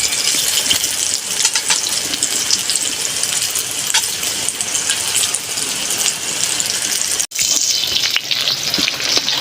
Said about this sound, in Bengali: বেগুনটা ভাজার সময় খুব লক্ষ্য রাখতে হবে বন্ধুরা, যেন খুব কড়া ভাজা না হয়।